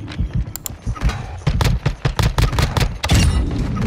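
Gunshots from a TAQ 56 rifle in Warzone 2 on Ashika Island, a string of sharp, punchy reports in irregular bursts over a low rumbling game mix, close and fairly loud.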